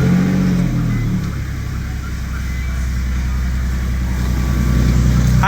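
A car fitted with a Manzo catback exhaust idles after starting, a close, steady low engine rumble with rhythmic exhaust pulses running throughout, briefly revving at the start.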